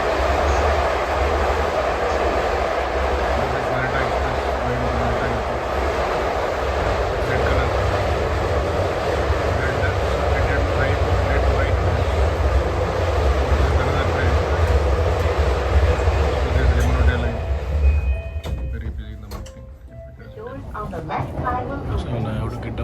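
A Yamanote line train rides toward Tokyo station, its steady rolling rumble and rattling carriage noise filling the car before easing as the train slows near the end.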